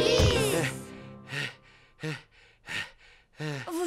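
Cartoon pig voice panting and gasping out of breath after counting aloud, a strong gasp at the start followed by several short, separate breathy puffs.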